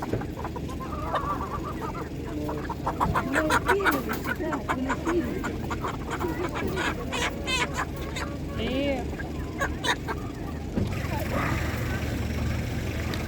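Several chickens cluck and squawk close by at an animal market in Ivano-Frankivsk while people talk over a busy background murmur.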